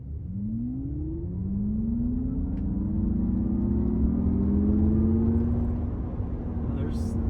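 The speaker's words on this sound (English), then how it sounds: "Let's do a full acceleration from a stop." A 2025 Acura MDX Type S electric SUV accelerating hard from a stop, its synthetic drive tone and motor whine sweeping upward in pitch over road rumble. A brief voice cuts in near the end.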